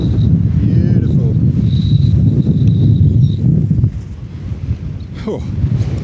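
Strong wind roars and buffets the microphone while hiking the Great Ridge near Mam Tor. The wind noise is loud and continuous throughout, eases slightly toward the end, and a voice is faintly heard under it.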